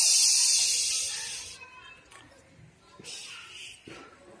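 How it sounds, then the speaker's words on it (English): A sharp, loud hiss opens the clip and trails off after about a second, leaving faint rustling and shuffling noises. "Snake make a hissing sound."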